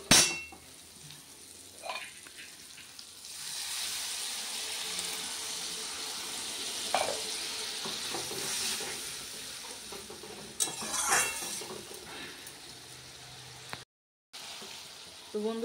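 Spices frying in oil in a home kitchen pan, a soft steady sizzle with occasional stirring clinks and scrapes of a utensil, fairly quiet throughout with a brief silent gap near the end.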